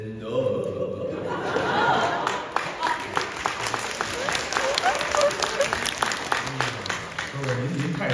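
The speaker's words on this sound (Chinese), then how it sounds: "您还给他鼓掌呢" A theatre audience at a live crosstalk comedy show in Changchun breaks into sustained applause mixed with chuckles and laughter, while a performer's voice carries over the clapping.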